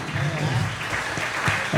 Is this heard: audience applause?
yes